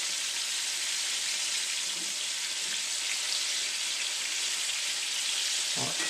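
Saugeye fish pieces frying in a pan during a lakeside catch-and-cook, a steady, close, broadband sizzle holding level throughout, with a brief low knock or clatter near the end.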